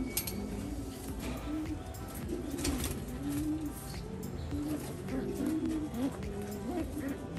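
Soft, repeated cooing from a pigeon, low rolling calls recurring every second or so over a faint background hum.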